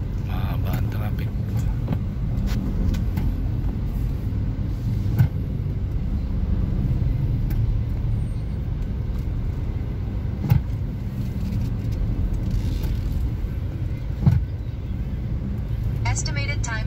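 Heavy road traffic of cars and buses rumbles steadily from inside a vehicle stuck in a long jam, a constant low engine drone with occasional faint knocks and clicks.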